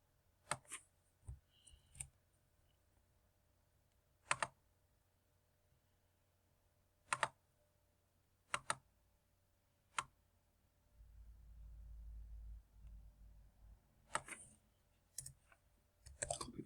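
Sharp, isolated mouse clicks on a computer, scattered irregularly across a quiet room, about a dozen crisp ticks with a low hum rising briefly near the end.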